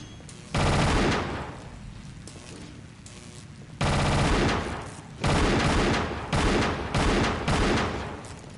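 Rapid automatic gunfire in the Tomb Raider: Angel of Darkness video game, loud close bursts in several separate volleys with quieter game ambience between them.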